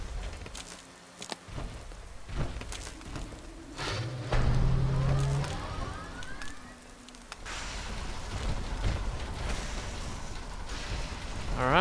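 Steady rain falls in the video game Fallout 4, a continuous wash of patter with a few louder scattered sounds and a low hum rising and fading.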